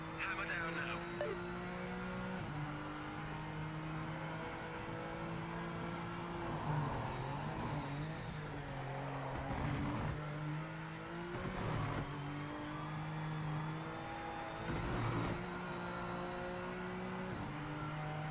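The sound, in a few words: race car engine accelerating in video game Project Motor Racing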